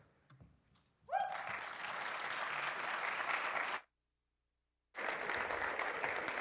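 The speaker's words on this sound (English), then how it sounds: "Let's give Luis and Evelyn another round of applause" Audience applause at an evening event, faint at first, then dense clapping swells up, cuts to sudden silence, and resumes just as strongly for the final stretch.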